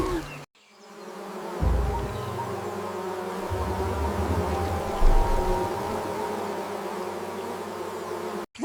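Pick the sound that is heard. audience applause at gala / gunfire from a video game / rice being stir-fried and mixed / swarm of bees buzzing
swarm of bees buzzing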